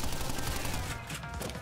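Rapid enemy gunfire from the Pinstripe Potoroo boss fight in the Crash Bandicoot N. Sane Trilogy remake, a dense continuous burst of shots that stays loud and steady with no talking.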